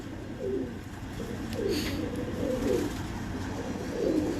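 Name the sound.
pigeons cooing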